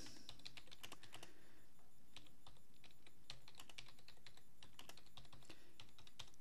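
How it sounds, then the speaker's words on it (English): Rapid key clicks from a computer keyboard, quiet and fairly close, come in uneven bursts with short pauses, with no voices over them. "I'm going to type in making a movie here too."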